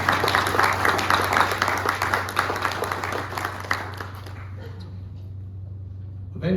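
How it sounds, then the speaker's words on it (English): Audience applause at a Pearl Harbor Day ceremony, a steady round of clapping over a low hum that fades out toward the end, with some voice-like sound mixed in. "Round of applause for them too."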